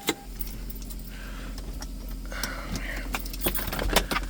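Car keys for a 2003 Lexus ES300 jingle and clink close by in several small metallic bursts over a low steady hum, with no talking.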